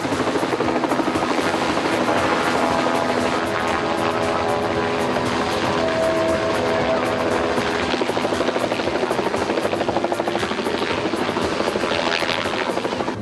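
A rescue helicopter's loud, steady rotor thrum and engine whine during a marine rescue display, close by and continuous, with the pitch shifting slightly as it moves.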